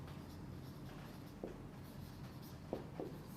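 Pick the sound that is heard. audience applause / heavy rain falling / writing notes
writing notes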